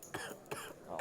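Three short, close coughs, one after another, during a poker game.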